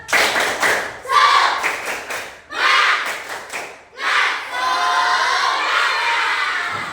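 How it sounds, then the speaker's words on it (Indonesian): A school class performs a rhythmic spirit-clapping chant led by a teacher, with bursts of unison claps and children's shouted voices in several phrases, ending in a longer sustained stretch of clapping and cheering. "kita tepuk semangat dulu. Tepuk semangat."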